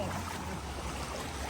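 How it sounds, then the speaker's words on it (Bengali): Floodwater waves wash across a flooded street in Agartala as a loud, continuous rushing surge with no voices over it. "পুরো একদম ঢেউ উড়াইছে"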